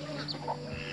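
Ducks let out of their pen on a farm in Roxas, Palawan give brief, nearby clucking and quacking calls over a low background hum.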